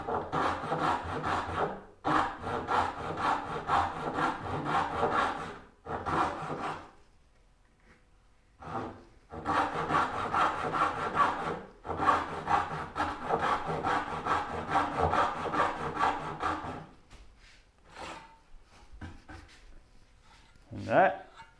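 Hand saw cutting dovetail pins in wood, rhythmic back-and-forth rasping strokes in several bursts separated by short pauses, close and clear, with talking in places.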